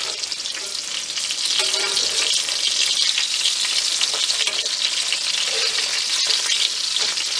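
Food frying in a pan inside an RV kitchen, with a steady, loud crackling sizzle running the whole time, dense and close, with no talking.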